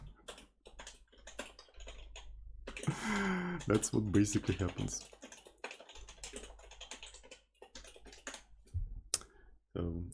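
Quick bursts of clicky typing on a computer keyboard while coding in a text editor, close and crisp, interleaved with someone talking over it.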